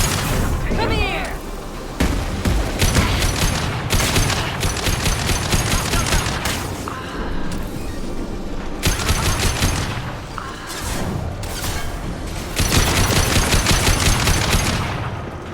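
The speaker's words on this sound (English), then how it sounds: "Stop shooting, Shepard." Dense, loud bursts of automatic gunfire and booming blasts from the video game Mass Effect 2, rattling in long volleys with brief pauses, while a voice talks over the shooting.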